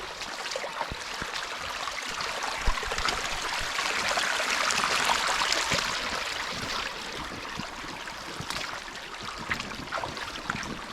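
A spring-fed creek of crystal-clear water flows steadily just below a hillside spring, a continuous bright trickling and babbling wash that stays close and even throughout, with no voices over it.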